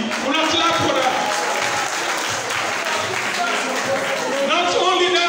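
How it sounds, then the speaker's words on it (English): Dense, sustained applause and clapping from a crowd of APC party youths at a political gathering in Port Loko District, Sierra Leone, loud and steady throughout the whole stretch. "Una clap for that."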